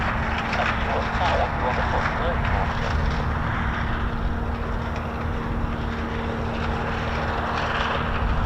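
An Embraer jet's engines give a steady, continuous roar near an RAF airbase. The drone holds constant throughout, with a faint tonal hum underneath.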